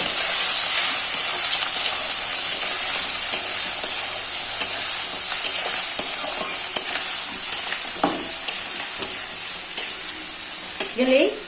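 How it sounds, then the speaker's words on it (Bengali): Grated ginger stirs and fries in hot oil in a pan for cabbage curry, a steady loud sizzle broken by repeated scraping strokes of a spatula, with a faint voice near the end. "আদাটা কোরানোটা দিয়ে একটু হালকা নাড়াচাড়া করবো"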